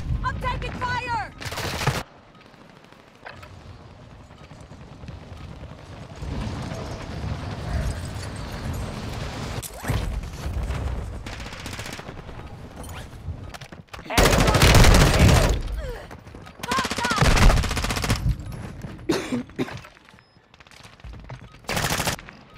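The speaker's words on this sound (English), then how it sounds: "I'm taking fire!" Rapid automatic gunfire bursts and single shots in the first-person shooter Warzone 2, loud and close, with stretches of sustained firing broken by quieter gaps, and game voices talking between the volleys.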